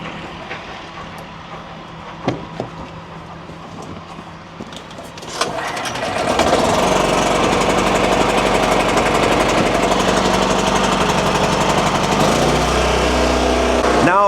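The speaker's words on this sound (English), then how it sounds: "we got to start up the generator here" A generator in a tree service shop is started and then runs at a loud, steady drone. A few knocks and clanks come first, then the engine catches near six seconds and keeps droning without a break until the end.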